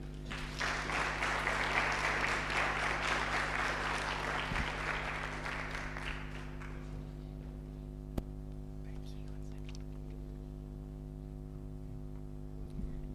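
Audience applause at an alumni network gathering of public leaders, a dense burst of clapping that swells, then fades out after about six seconds, leaving room hum.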